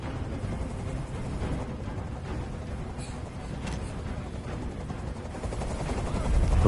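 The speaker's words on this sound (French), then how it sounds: "Fais dégager cet hélicoptère, maintenant!" Helicopter hovering overhead in the video game Detroit: Become Human, a steady loud rotor drone filling the whole stretch and swelling slightly toward the end, with faint crackles like distant gunfire.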